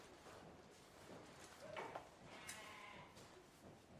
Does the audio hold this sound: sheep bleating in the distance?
yes